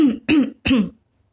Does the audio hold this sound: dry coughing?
yes